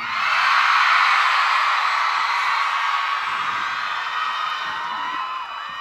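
Fans at a live comedy and music stage show cheer, scream and whoop together in a dense, sustained crowd roar that swells early and stays loud throughout.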